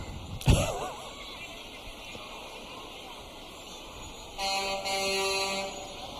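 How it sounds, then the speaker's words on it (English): A sharp thump, then a car horn sounds in the distance, followed later by a long, steady horn blast over background crowd noise. "They're honking at him."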